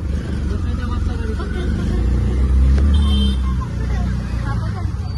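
A packed auto rickshaw engine drones steadily during the ride, rising to a louder rumble midway, with passengers chatting loudly over the motor.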